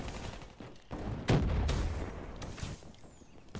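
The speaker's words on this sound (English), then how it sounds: "PPSH is a very powerful gun, apparently." A PPSh submachine gun in Call of Duty: Black Ops 3 fires in several rapid bursts of sharp shots, mixed with other distant gunfire and impacts in a busy firefight.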